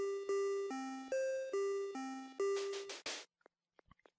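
A sequence of chiming bell tones rings out in Oddworld: Abe's Oddysee, about eight clear notes at varying pitches in quick steady succession. A bright noisy burst follows, then near silence broken by a few faint clicks.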